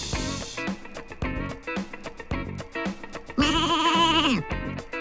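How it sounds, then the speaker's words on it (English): Sheep bleating over a bouncy children's song with a rhythmic beat; one long, loud wavering bleat stands out in the middle of the music. "Sheep."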